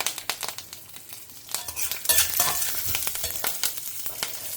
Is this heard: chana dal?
yes